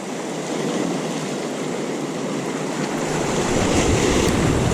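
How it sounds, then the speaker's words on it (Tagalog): Ocean waves surge around a small fishing boat at sea, with a loud continuous wash of surf and wind noise on the microphone that grows stronger toward the end. No voices are heard. "Biglang lumakas na naman yung alon."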